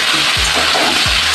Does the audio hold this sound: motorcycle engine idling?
no